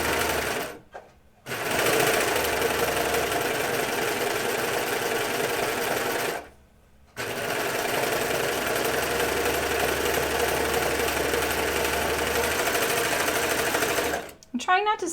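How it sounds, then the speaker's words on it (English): A serger runs in long, steady, loud stitching bursts while sewing True/Bias Hudson pants. It stops briefly twice and a voice is heard near the end. "I'm trying not to sew too fast because of the noise, so I'm really sorry that the serger is pretty noisy"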